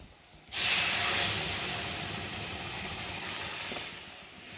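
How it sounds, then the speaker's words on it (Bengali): Dal poured into a pan of hot fried garlic and onion sets off a sudden loud hissing sizzle that starts abruptly and carries on strongly before slowly easing off, heard close up with no talking. "আর এখন আমি ডালটাকে ঢেলে দিয়ে ভালো করে ফুটিয়ে নেব।"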